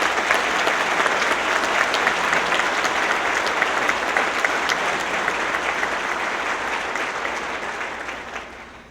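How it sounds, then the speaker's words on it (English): Dense, sustained applause from a large audience at a college event fills the space for several seconds, staying steady before gradually fading at the end. "So give all of our young people a round of applause."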